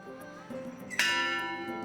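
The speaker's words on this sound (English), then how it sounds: "Look at the size of this bell. Ring that one." A large bell is struck once, a bright clang that hangs in a long, slowly fading ring over a low background hum.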